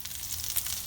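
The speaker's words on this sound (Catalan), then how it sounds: "He estat fregint una estona la sèpia" Steady sizzling of cuttlefish frying in a hot pan, a close, continuous crackle with small pops throughout and no voices.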